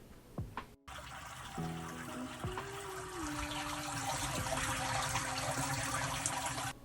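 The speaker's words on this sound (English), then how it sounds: "doing a nice rug pull, lets the water drain out through this mesh" Water from handmade paper pulp drains through a mesh screen in a steady, close trickle and patter, with brief tonal squeaks and faint knocks over the continuous wet flow.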